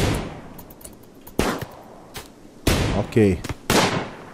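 Gunfire in the video game RimWorld, sharp isolated shots spaced irregularly with a short rapid burst, loud and close, while a person speaks briefly in between.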